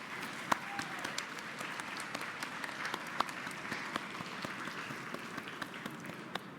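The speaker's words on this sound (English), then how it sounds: "Let's give them a round of applause" Convocation audience applause, a steady, even wash of many hands clapping at moderate distance, with a few sharper individual claps standing out, continuing throughout.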